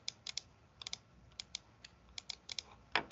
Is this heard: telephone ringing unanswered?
no